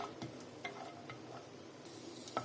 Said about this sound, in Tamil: இந்த நெய் சூடானதும் நம்ம எடுத்து வச்சிருக்க கேஷ்யூஸ் இதில் ஆட் பண்ணி ஃப்ரை பண்ணிக்கலாம்.